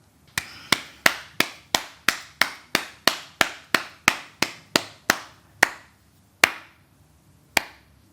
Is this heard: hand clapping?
yes